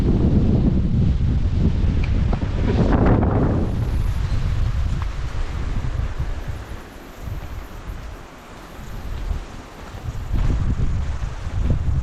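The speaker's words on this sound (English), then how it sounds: "It's blowing the leaves and the life out of this tree" Strong wind on Quail Island near Christchurch gusts through a tree's leaves, loud buffeting rushes and rustling that surge near the start, fade to a quieter lull in the middle, then swell again toward the end, with heavy wind noise on the microphone.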